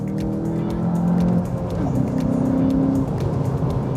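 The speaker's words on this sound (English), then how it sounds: "You might have heard we got a lot of tire squeal." A 2020 Volkswagen Jetta GLI, front-wheel drive, launches hard with its front tires squealing in sustained, wavering screeches over the loud engine drone, close to the car and without talk.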